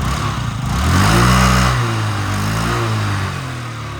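A Yamaha Jog SA36 fuel-injected scooter engine runs close by, a steady low putter with a slight rev swell in the middle before settling back, no voices.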